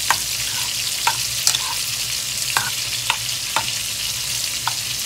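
Drumstick erissery being stirred in a pan after grated coconut and cumin are added, a soft continuous simmering sizzle broken by several sharp spoon scrapes and clinks at irregular intervals, close and alone.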